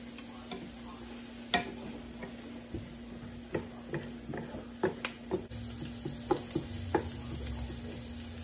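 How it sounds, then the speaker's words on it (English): Onions and celery sautéing in plenty of butter for stuffing give a steady low sizzle, broken by repeated sharp ticks and scrapes of stirring at close range, with no talk. "I'm going to cook up those onions and celery for the stuffing. Whipping them up in a little bit of butter."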